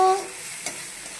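Spice paste frying in oil for stuffed pointed gourd, a short soft sizzle with a brief stirring scrape partway through.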